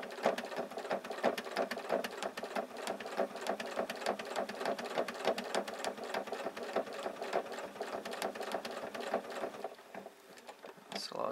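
A sewing machine stitches a small fused art quilt, its needle running in a steady, fast mechanical patter that continues throughout, close and fairly loud, easing slightly near the end.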